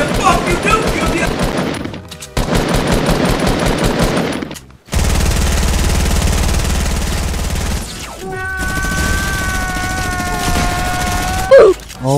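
Rapid bursts of automatic gunfire from the Fortnite video game crackle loud and close in several separate volleys, with game effects and a brief rising tone between them.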